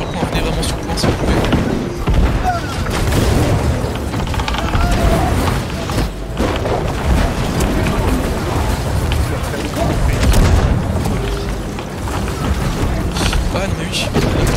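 Heavy booming cannon fire in a team video game, dense low rumbling blasts throughout under steady talk from players.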